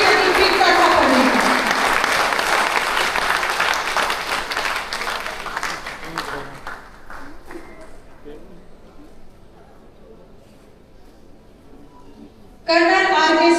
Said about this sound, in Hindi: एक जोरदार तालियों के साथ स्वागत करते हैं